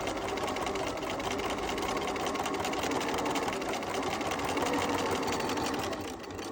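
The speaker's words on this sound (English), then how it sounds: "Then you're ready to turn your machine on. Backwards. Then begin sewing to the corner." Sewing machine stitching fabric toward a corner, a steady, fast mechanical whir running without pause the whole time at a moderate, even level.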